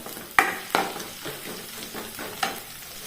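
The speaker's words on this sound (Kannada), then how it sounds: "ಹಾಗೆ ಕಟ್ ಮಾಡಿ ಇಟ್ಟುಕೊಂಡ ಕರಿಬೇವನ್ನು ಹಾಕ್ತಾ ಇದ್ದೇನೆ" Curry leaves, ginger, garlic and green chillies dropped into hot oil, giving a steady sizzle broken by a few sharp crackling bursts as they are stirred, close and fairly quiet with no talking.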